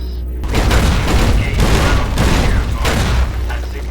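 Securitron robots in Fallout: New Vegas open fire, a rapid-fire G-28 grenade launcher among their weapons. A dense, loud barrage of booming shots and bursts runs for several seconds without a break.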